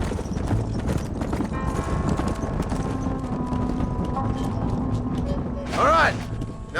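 Horse hooves clip-clop steadily and close in Red Dead Redemption, a continuous trotting patter with a brief whinny near the end and a low game drone underneath.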